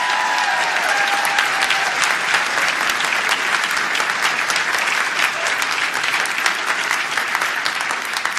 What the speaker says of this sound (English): Let's give them a big round of applause today.